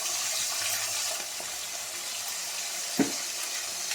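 Steady running tap water splashing into a sink while a pumpkin is washed in a home kitchen, continuous and close, with a brief clatter near the end.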